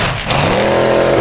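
A formula offroad race car at a hillclimb event at Stapafell, Iceland, revs hard with a rising, sustained engine wail, loud and close for a brief burst, with no talk over it.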